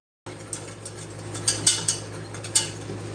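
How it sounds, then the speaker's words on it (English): Enchilada sauce is whisked in a pan, giving a few light metallic clinks and scrapes of a whisk against the pan over a low steady background hum. "So I'm just going to whisk"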